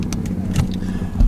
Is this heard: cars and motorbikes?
yes